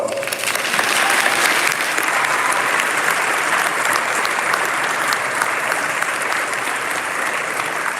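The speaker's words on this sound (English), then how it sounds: "Let's give it a big round of applause." Sustained applause from a large audience at a Model United Nations closing ceremony, dense, even clapping that stays loud and steady from start to finish.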